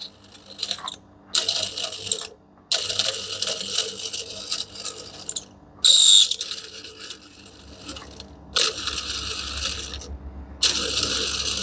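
An Ariston washing machine pump motor with a fault runs loud, giving harsh rattling, grinding bursts that cut out abruptly several times as it sticks, with brief silent gaps between the runs.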